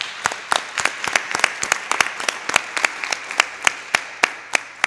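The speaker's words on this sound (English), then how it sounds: "Let's give them a quick round of applause." Applause at a public panel on drug abuse, sparse and fairly close, with individual claps standing out in an uneven rhythm for about five seconds before it thins.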